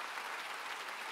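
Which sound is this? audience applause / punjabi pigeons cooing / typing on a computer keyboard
audience applause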